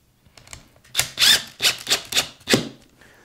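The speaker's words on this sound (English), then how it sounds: "I'm gonna screw it on the center line so that I know where my center line is." Screws are driven into a Les Paul-style hybrid guitar body of tonewood along its center line, a series of six or seven close, sharp scraping bursts in irregular rhythm, each fading quickly, with no speech.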